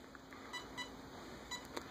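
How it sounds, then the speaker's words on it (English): A Castle Creations electronic speed controller emits a few faint, short, high-pitched programming beeps at spaced intervals over a quiet background hum. "Now it's going to go beep, beep, beep. That means setting to option one."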